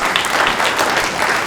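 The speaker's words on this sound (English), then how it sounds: "Applause isn't necessary." Audience at a stand-up comedy show applauding, a short loud spell of dense clapping from a full crowd, with no voice over it.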